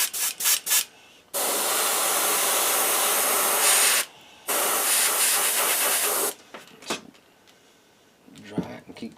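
Spray paint hisses onto a bluegill-pattern fishing lure in two long, loud continuous bursts, each several seconds, with brief clicks and handling sounds before, between and after.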